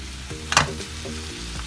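Chopped tomatoes drop into a qeema karahi of frying minced meat and sliced onions, setting off a close, steady sizzle with a brief louder burst as they land.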